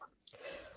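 A single quiet sneeze indoors, a short sharp burst followed by a breathy, hissing trail, with no other voices during it.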